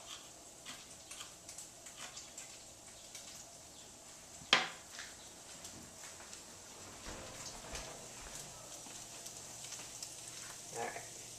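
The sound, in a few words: ground meat browning in a pan with garlic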